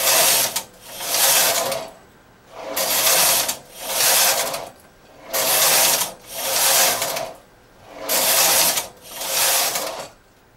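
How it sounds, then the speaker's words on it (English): A knitting machine carriage, knitting short rows, slides back and forth across the needle bed in seven regular whirring passes, each about a second long with brief pauses between, close and steady with no voices. "I'm pushing to forward working position, and I knit to the right."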